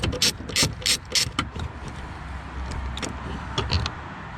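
Metallic ratcheting and clicking bursts from a tool working 8mm bolts on a Ford F150 door panel, close and fairly quiet, with a few sharp clicks spaced out and a low hum underneath.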